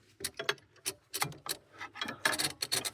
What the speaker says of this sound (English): Hooking on, you can hear it sort of ratcheting in.